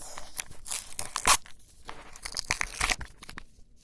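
Sharp tearing and crinkling of a surprise toy box package being ripped open, several quick rips close to the listener, with no talking.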